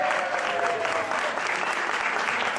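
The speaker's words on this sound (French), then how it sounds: "Ah, on applaudit." Sustained audience applause at a French comedy stage show preview screening, dense and steady throughout with no talk over it.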